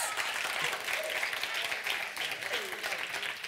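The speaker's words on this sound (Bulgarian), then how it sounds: "Аплодисменти! Браво на вас!" Audience applause at the Sivina award ceremony, a fairly soft, continuous patter of clapping from a crowd, with voices faintly audible within it.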